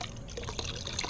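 Water is poured into a small container for holding a minnow, a steady close trickle and splash running throughout with no voices.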